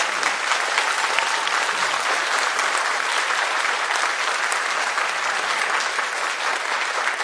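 A large audience applauds at a charity concert in a congress centre in Lublin, a loud, steady, dense clapping that holds evenly for the full stretch with no voices over it.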